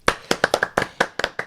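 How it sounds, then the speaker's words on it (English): Several people clap their hands in a quick, uneven scatter of about a dozen sharp, close claps lasting under two seconds, with no talking over them. "clap for yourselves"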